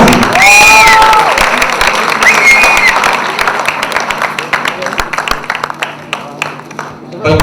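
Crowd at a Bhojpuri movie trailer launch erupting in loud applause and cheering, with whistles and shouts over heavy clapping that thins into scattered claps toward the end, an announcer's voice mixed in.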